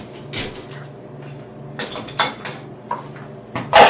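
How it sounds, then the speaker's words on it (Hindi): Plates, bowls and pots set into the lower rack of a dishwasher, a series of close, sharp ceramic and metal clinks and knocks arriving in uneven bursts over a few seconds. "नीचे वाले रैक में मैं ज़्यादातर प्लेट्स रखती हूँ,"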